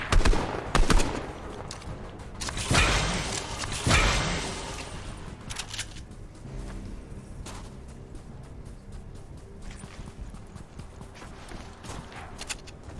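Rapid bursts of gunfire from weapons in the video game Fortnite crack loudly in the first few seconds, then thin out into scattered quieter shots and footsteps over a low background.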